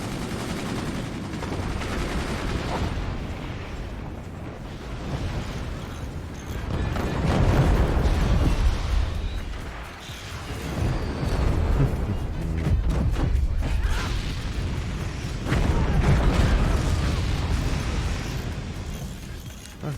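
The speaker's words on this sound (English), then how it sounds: "And a flurry of cannon fire." Heavy cannon, howitzer and 20mm cannon fire from a multiplayer match of the RTS game Forts, with dense rapid bursts and booming volleys that swell loud in waves.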